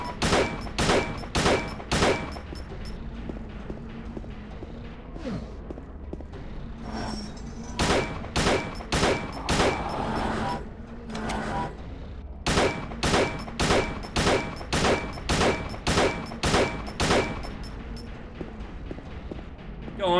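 A handgun fires in Silent Hill HD Collection, sharp evenly spaced shots in quick bursts with short pauses between volleys, loud and close, with no talk over them.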